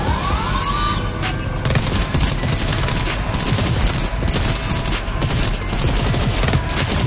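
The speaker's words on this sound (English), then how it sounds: "We're shooting the wall" Rapid bursts of video game gunfire fired at a wall in a PvE mission, loud and close, with dense overlapping shots and short pauses between volleys.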